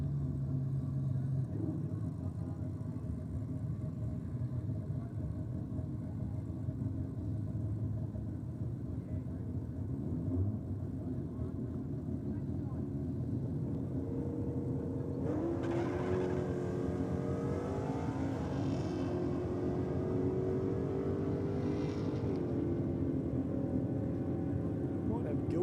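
A Holden VL drag car rumbles on the drag strip under steady commentary, then its engine note climbs sharply as it launches off the line, loud and rising before easing off.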